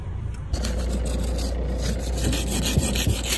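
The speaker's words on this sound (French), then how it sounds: "Ça y est, il fait 2 degrés, il faut gratter." Frost being scraped off a surface at about 2 degrees in cold weather: steady, close, rasping scrapes running continuously for about three seconds, loud and alone without talk.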